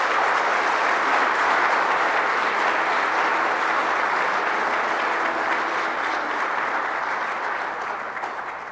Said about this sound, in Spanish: Denle un aplauso al señor arzobispo,